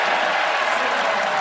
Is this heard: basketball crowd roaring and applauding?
yes